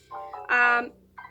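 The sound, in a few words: phone notification sound for a YouTube notice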